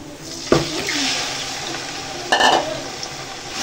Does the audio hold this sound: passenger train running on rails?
no